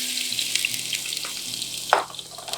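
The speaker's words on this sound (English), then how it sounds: "Got our oil good and hot. Drop in my onions," Onions drop into hot oil and crackle and sizzle steadily at close range, with a brief louder splash-like burst near the end.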